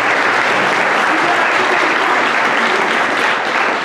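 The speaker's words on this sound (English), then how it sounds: "Now a huge round of applause as they go back to their seats." An audience at a school student-of-the-month awards ceremony claps loudly and continuously, dense indoor applause filling the whole moment without a break.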